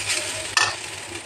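Rice frying in a pan on a gas stove, giving a steady close sizzle with a brief scrape of stirring partway through, no voices.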